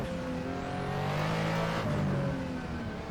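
A RUF Yellowbird CTR with its air-cooled engine, driven on the Nordschleife in Assetto Corsa. The engine revs hard and rises in pitch with a brief shift dip, loud and alone.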